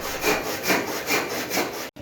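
A hand saw cuts through a wooden king-size bed frame in steady back-and-forth strokes, about five rasping passes in two seconds, close and loud, ending abruptly.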